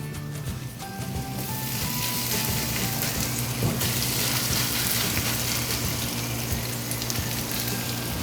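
Pork and garlic chive pancake batter sizzling loudly in a very large frying pan heated to about 190 degrees, a dense continuous hiss and crackle like heavy rain, with a low steady hum underneath.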